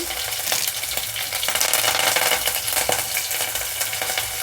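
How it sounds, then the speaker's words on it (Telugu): Green chillies, chopped onion, garlic and curry leaves fry in hot oil in a pan with a loud, steady crackling sizzle, broken by occasional clicks and scrapes of stirring; no one speaks. "కొద్దిగా ఫ్రై కానిద్దాము పచ్చివాసన పోయేదాకా పచ్చిమిరపకాయలు"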